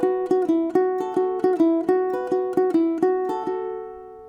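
Ukulele picking the repeating arpeggio motif of a song, played twice through: a quick, even stream of bright plucked notes with a ringing final note that fades out, solo and close.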